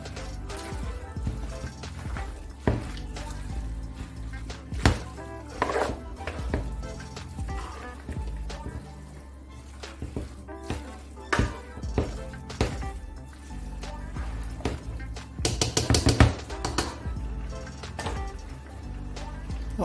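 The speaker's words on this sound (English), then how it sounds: "While I add it in, I stir just so that they all get incorporated" A spoon stirs vegetables into a pot of Nigerian vegetable sauce, making close, irregular wet scrapes and soft clinks against the pot, with a few sharper knocks near the end.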